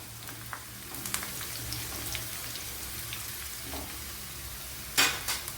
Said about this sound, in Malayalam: ഇപ്പോൾ പാവയ്ക്ക ഫ്രൈ ആവുന്നതിൻ്റെ ഇടയിൽ ഇതിന് വേണ്ടുന്ന അരപ്പ് തയ്യാറാക്കാം.